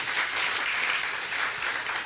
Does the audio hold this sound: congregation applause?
yes